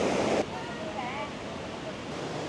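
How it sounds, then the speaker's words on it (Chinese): A 40-degree hot spring waterfall pours down a cliff at Luoji Mountain in Sichuan, a dense steady roar of rushing water with a brief louder surge at the start and faint voices beneath. "那个瀑布的水啊，能冒着热气，它的温度有40度"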